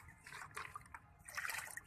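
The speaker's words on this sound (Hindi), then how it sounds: "तो इसको हम इस वाले सिंपल पानी में डाल के डिल्यूट कर लेंगे" Banana peel fertilizer liquid is poured into about 1.5 litres of plain water, a faint close trickle and splash that comes in a few uneven bursts.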